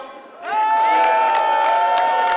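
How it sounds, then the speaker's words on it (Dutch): A carnival crowd cheers and applauds loudly, a sustained whooping roar that swells in after a brief quieter moment and holds steady. "Eerst even een applaus voor de ambiance"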